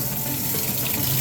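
Tap water running steadily to refill a home guppy aquarium after a partial water change, a continuous close rushing splash with no pauses.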